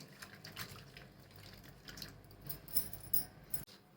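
Water splashing and dripping as dried Bombay duck fish is rinsed and washed by hand, close and soft, with no talking.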